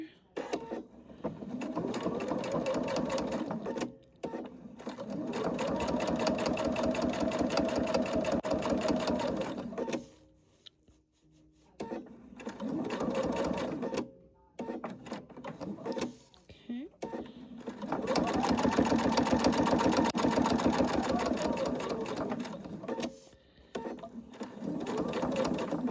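A sewing machine stitching a freezie wrap with terry cloth, running in long bursts of rapid mechanical whirring separated by short pauses, close and fairly quiet, with a person talking between and during the runs.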